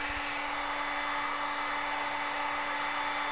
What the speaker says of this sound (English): I'm using this Mastercraft heat gun from Canadian Tire. Let me blow hot air onto this.